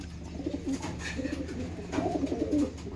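Punjabi pigeons coo softly in soft, repeated rolling bursts with a faint steady background hum and no talking.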